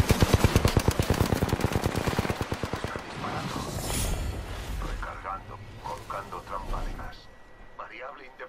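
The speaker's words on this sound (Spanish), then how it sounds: "Están disparando de arriba." Rapid automatic gunfire in the video game Apex Legends rattles loudly for about three seconds, then gives way to scattered fainter shots and game sounds while players talk over it.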